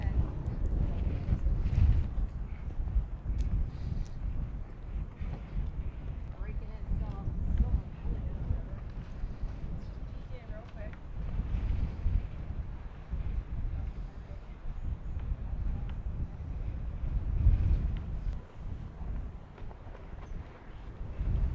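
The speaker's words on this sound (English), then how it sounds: "we're getting high gusts right now" Strong wind gusts of about 25 miles per hour at the Belmont, Nevada ghost town buffet the microphone in a steady low roar that swells and eases, with a person talking throughout.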